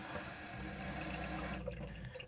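Water runs steadily from the faucet of a 1988 Dodge Class B RV, a continuous close splashing rush that shifts slightly near the end, with no talking.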